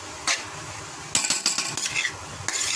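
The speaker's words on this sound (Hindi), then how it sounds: "सॉरी मेरी चमचा बहुत शोर कर रहा है" A metal spoon clatters and scrapes against a cooking pot in a series of sharp, bright clinks, some isolated and some in quick bursts.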